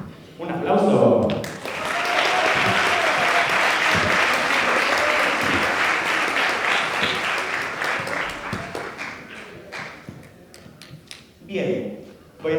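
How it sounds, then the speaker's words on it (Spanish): An audience applauds steadily and fairly loudly during a competition show as three couples come back in, the clapping swelling for several seconds and then fading, with voices speaking before and after it. "Un aplauso."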